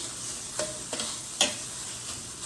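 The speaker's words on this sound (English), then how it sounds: "And now we're going to add garlic with the lightly browned onion." Garlic sautés with lightly browned onion in a pan: a soft, steady sizzle, with a few sharp clicks as a utensil stirs and taps the pan.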